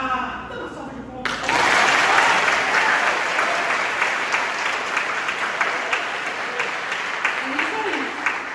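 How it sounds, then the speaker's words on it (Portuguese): A church congregation bursts into loud, sustained applause during a worship service, starting abruptly after about a second and continuing steadily throughout, with voices mixed into the clapping. "dá uma salva de palmas"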